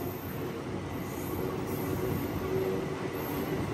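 The Andaman Express passenger train runs after leaving Chirala, heard as a steady close rumble of wheels on rail with a faint squeal and carriage noise, no talking.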